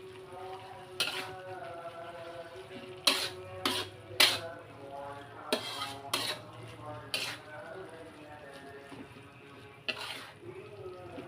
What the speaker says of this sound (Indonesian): Lalu kita masukkan mie ya. Kita aduk pelan-pelan aja.